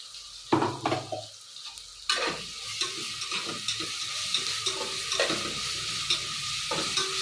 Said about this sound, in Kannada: ಶುಂಠಿ ಬೆಳ್ಳುಳ್ಳಿ ಪೇಸ್ಟನ್ನ ಒಂದು ಸ್ಪೂನ್ ಹಾಕ್ತಾ ಹಾಕ್ತಾಯಿದ್ದೀನಿ